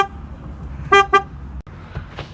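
A car horn gives two short honks close by, the second slightly shorter, followed by a faint third toot over low idle rumble.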